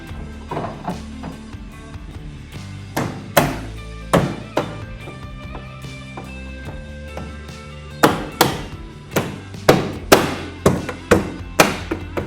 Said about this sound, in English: You really just snap in that new piece.